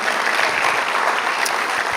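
Steady, dense applause from a congregation at a church service honoring the Lord, sustained and fairly loud for the whole moment without a break.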